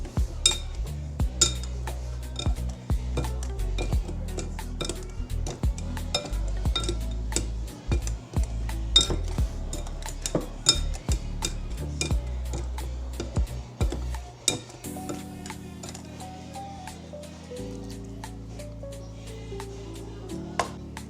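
Strawberry shortcake ingredients stirred in a bowl, a steady run of quick clinks and scrapes of a utensil against the bowl, close and rhythmic, continuing alone for about twenty seconds with a softer stretch near the end.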